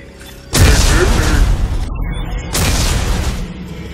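A loud explosion in the video game Dead Space 3 erupts suddenly with a heavy boom, its rumble sustained, then a second blast swells up a couple of seconds later.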